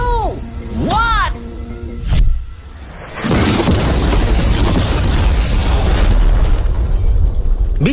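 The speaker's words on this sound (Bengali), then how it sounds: "বিস্ফোরণটা এত জোরে হয়েছে যে ভিতরের ম্যানিকুইন গুলো ছিটকে এদিক ওদিকে বেরিয়ে গেছে" An ordinary car with mannequins inside is blown up: rising electronic beeps lead to a sudden loud boom, followed by a sustained roaring, crackling rumble of the blast that fills the rest of the scene.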